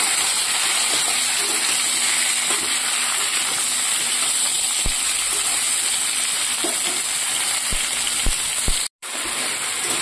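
Eggplant sizzling steadily in a hot pan along with fried potato and cauliflower, a dense continuous frying hiss with a few soft clinks of stirring, close and loud, no voices.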